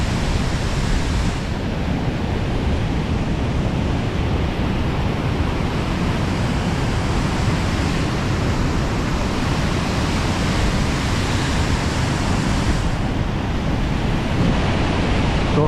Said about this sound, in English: there's the start of the water coming down through the first spout